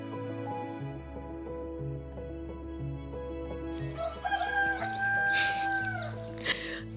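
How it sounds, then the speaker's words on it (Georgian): A rooster crows loudly and close in a village in the Pankisi Gorge, a long rising then drawn-out call over a steady low hum, with brief hen clucks and other bird sounds around it. "ძალიან დილაც არ არის ეს მამალი რო ყივის"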